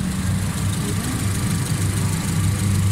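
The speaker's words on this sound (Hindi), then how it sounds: "ये गाड़ी ठीक है तो चलाएं, माशाल्लाह बिल्कुल परफेक्ट एग्जैक्ट साउंड है इसका" A 2006 Honda City engine idles smoothly and steadily after a throttle body service, giving a constant close-up low hum with no misfires or stumbles.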